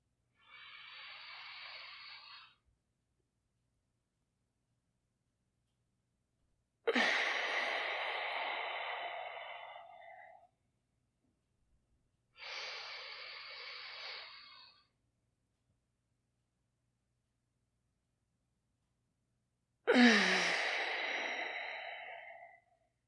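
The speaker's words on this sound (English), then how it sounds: "still breathing in and out through the nose, shrinking it a little bit, but still allow it to have some volume, in and out through the nose, making some sound." Four loud breaths in and out through the nose during a slow breathing exercise, alternating inhales and exhales with pauses of silence between them, close and alone.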